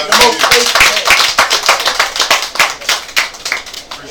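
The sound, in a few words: round of applause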